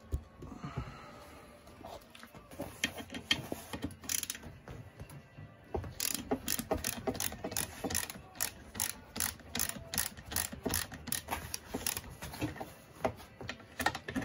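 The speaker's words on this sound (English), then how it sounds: "once you get in with your socket, you start turning it" A socket ratchet clicks steadily while turning a tight M12 spline bolt on a VW T5 Transporter seat bracket, a long run of close, rapid ratcheting strokes after a quieter start.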